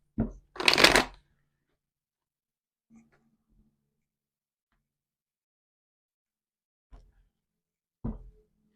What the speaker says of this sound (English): so I'm gonna just give this a shuffle.